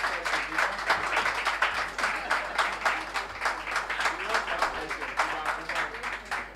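Audience applause at a tertiary business quiz championship grand finale, a sustained patter of many hands clapping in a hall, rhythmic and fairly full, with faint voices underneath.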